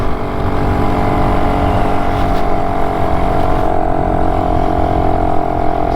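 A BSA Bantam 3-speed motorcycle rattles steadily along on the move, its engine a continuous close drone with a tonal hum and broadband road and wind noise, holding an even level throughout.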